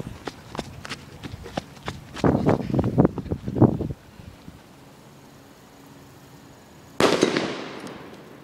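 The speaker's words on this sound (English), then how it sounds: "we're about to blow up the stereo with this little 1 gram firecracker I made using 2 cups and just like 3 layers of electric tape" Footsteps crunch and shuffle nearby, then after a quiet pause a single sharp blast as a small homemade one-gram firecracker wrapped in electrical tape explodes inside a stereo, followed by a fading rush of debris.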